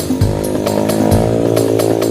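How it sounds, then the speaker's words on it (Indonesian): A local motorcycle engine runs close by on a rural path, a loud, steady buzzing drone with a rough, harmonic-rich tone and slight rises in revs, and no talk over it. "dan ada motor Akamsi mau lewat dulu."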